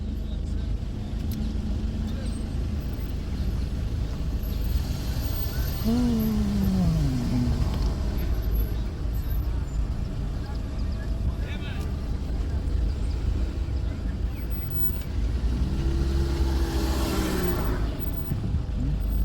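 Steady road traffic at a roundabout, probably including a taxi, heard from inside a vehicle as a continuous low engine and road rumble, with other vehicles passing and a voice talking over it.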